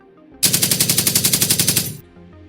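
A loud burst of rapid automatic gunfire from a sten gun, about fifteen evenly spaced shots in a second and a half, rings out as a sound effect in a Hindi comic audiobook. No voice is heard over it.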